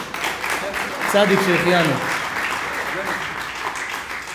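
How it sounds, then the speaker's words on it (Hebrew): An audience claps in a steady, moderately loud patter while someone speaks over it and another voice chants briefly. "מגיע לו כפיים"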